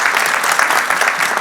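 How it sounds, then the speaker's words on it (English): Applause for a panel of speakers at a policy forum, a dense, steady wash of many hands clapping at once, loud and sustained throughout with no voices over it. "please, let's give all of our panelists a big round of applause"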